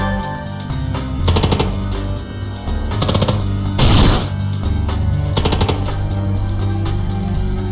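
Automatic gunfire in the Long Gone Days video game, several rapid bursts over a steady music bed, with one louder burst midway.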